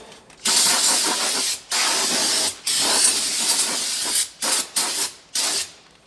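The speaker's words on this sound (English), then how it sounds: "O'Reilly brake cleaner" O'Reilly brake cleaner hisses from an aerosol can onto parts of a Buick LeSabre 440-T4/4T60 transmission pan, several loud close bursts of spraying separated by brief pauses, the last few quick and short.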